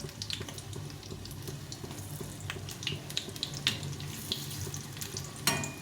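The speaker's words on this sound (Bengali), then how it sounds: "এভাবে করে ভেজে নিতে হবে এই বড়াগুলো" Chana dal lentil fritters fry in oil over low heat, three at a time, giving a steady close sizzle dotted with small pops and crackles, with no talking.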